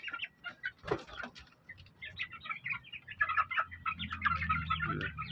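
Young backyard stags and chickens cluck and chirp in a busy overlapping chorus, soft at first and building steadily louder, with a brief flutter of wings early on.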